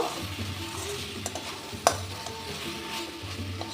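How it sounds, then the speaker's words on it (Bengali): A spoon stirs a simmering radish curry after rice flour and garam masala go in: soft repeated scraping over a low sizzle, with one sharp clink against the pan partway through and no talking. "দিয়ে দিচ্ছি অল্প একটু গরম মশলার গুঁড়ো দিয়ে ভালো করে মিশিয়ে নেব"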